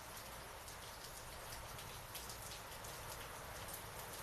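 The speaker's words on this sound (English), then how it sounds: "The rain is so calming." Rain falls steadily in a dense, even hiss of drops striking surfaces, constant and soft throughout with no voices.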